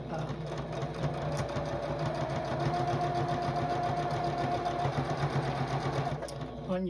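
A sewing machine stitches a star quilt tabletopper with a steady, continuous mechanical whir for about seven seconds before stopping, while a voice talks over it.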